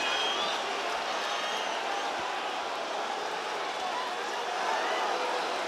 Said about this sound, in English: Listen to the crowd here as we move into the final minute of this fight.